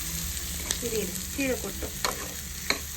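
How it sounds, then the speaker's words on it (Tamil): Vegetables for a sweet corn soup sautéing in a pan, with soft sizzling and frying under scattered stirring clinks and scrapes of a spoon at close range, plus a few brief spoken words. "ஒரு 3 மினிட்ஸ் இந்த காயெல்லாம் நல்லா வதங்கி வரட்டும்."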